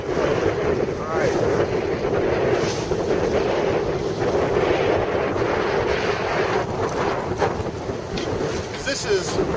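Steady south wind rushing over the microphone aboard a Tartan 30 sailboat on an Ohio lake in November, a constant loud roar with water wash beneath it.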